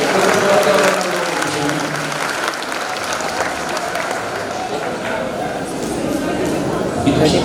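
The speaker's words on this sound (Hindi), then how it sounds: "एक छोटा ताली आप अभी बजा लीजिए" A crowd at a Janmashtami cultural programme applauds in a dense, continuous roar of clapping that fills the hall, loud and steady throughout with voices mixed in underneath.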